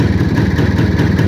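A motorcycle offered for sale idles steadily up close, its engine putting out an even, low, throbbing putter with a quick regular pulse and no revving or talk.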